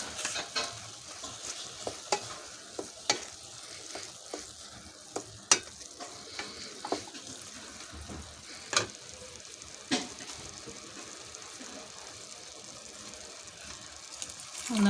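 A spoon stirs wakame and palm oil in a pot, giving a quiet, steady sizzle broken by scattered scrapes and knocks against the pot at irregular intervals.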